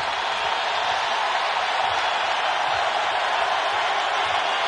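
A dense home crowd roars at a Kansas basketball game against West Virginia, a steady loud wash of cheering noise filling the arena without letup.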